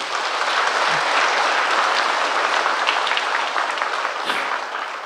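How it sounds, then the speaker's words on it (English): Church congregation clapping together at a Sunday service, a loud, dense and sustained burst of applause filling the room without pause. "A round of applause for..."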